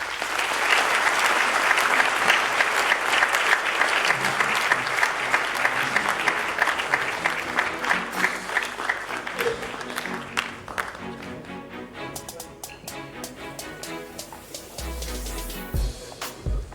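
A large audience at the 2014 GDT awards ceremony breaks into loud, sustained applause, a dense wash of clapping that holds for many seconds before thinning and fading out.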